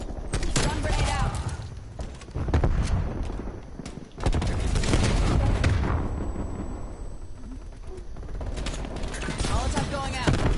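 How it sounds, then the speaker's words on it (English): Stun grenade detonating during a Call of Duty: Cold War Hardpoint match, a loud burst among frequent gunfire and explosions, with players talking over the chaos. "Stun grenade out."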